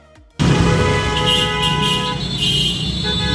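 A car horn blares in a congested city traffic jam, one long sustained tone that starts abruptly after a brief quiet moment and holds loudly over the rumble of idling vehicles.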